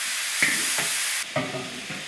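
Free-range chicken and insect mushrooms stir-fry in a wok, with a steady loud sizzle broken by a few spatula scrapes and tosses.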